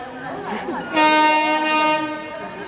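A train horn blares loudly and sustains for over a second as a train approaches, with rumbling and faint voices beforehand.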